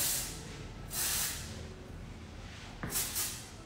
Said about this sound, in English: I'm going to use the Davenant's dry texture spray